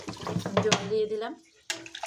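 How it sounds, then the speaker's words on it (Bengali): Water splashes briefly as it is poured into a pot of katla fish curry with potatoes and vegetable stalks. The short pour sits under a woman's speech in a kitchen. "জল দিয়ে দিলাম"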